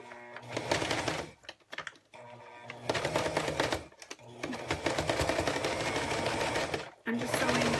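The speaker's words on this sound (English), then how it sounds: "I'm just sewing as close to the zipper as I can." A sewing machine fitted with a zipper foot runs along a zipper in quick loud bursts, whirring steadily between short pauses, with a few brief gaps where the stitching stops.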